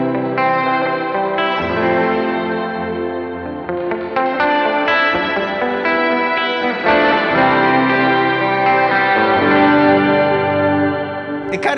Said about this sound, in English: when we start adding the glow, not only do we get that shimmer and sparkle, but we also get a little bit of upper octave